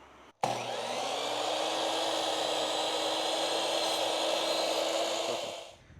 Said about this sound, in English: So we're gonna go ahead and start cutting the white pieces